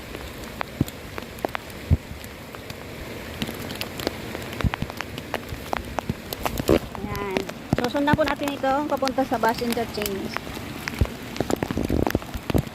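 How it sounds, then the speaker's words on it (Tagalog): Heavy rain patters steadily on a hiking trail near Tai Lam, with sharp drips striking close by throughout while someone speaks under the downpour in the middle. "Ang lakas na ng ulan guys."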